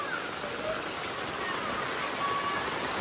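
A sudden rain shower falls on a house in a Konkan village, a steady, dense hiss of drops that continues evenly for the whole stretch with no voices.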